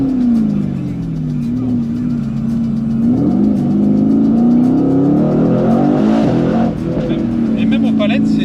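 A Mercedes-AMG GT C sports car engine pulls under acceleration, with a loud, close, rising and falling tone heard from the cabin while someone talks over it.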